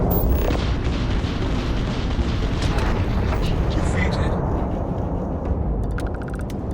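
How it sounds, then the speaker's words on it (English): A missile explosion in the video game Starfield, a loud, sustained rumbling blast with crackling debris that slowly fades, with a voice talking over it and small electronic tones near the end. "There's a missile incoming"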